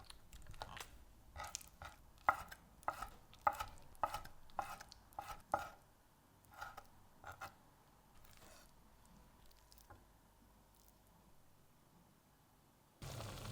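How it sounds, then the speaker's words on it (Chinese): A knife smashes then chops shrimp on a board for a radish pancake, a run of sharp separate thwacks and taps that thin out into softer, sparser cuts, close and alone. "几个虾，拍扁后切碎"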